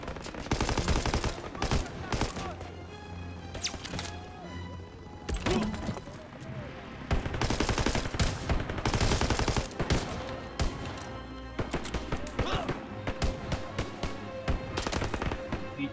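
Gunfire in Call of Duty: WWII, with rapid bursts of automatic fire and sharp single shots coming in loud clusters, some close and some farther off, mixed with in-game music and effects throughout.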